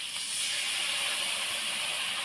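Loud, steady hissing and sizzling as water mixed with peanut paste hits hot oil in a pan, a continuous close spitting roar with no voices.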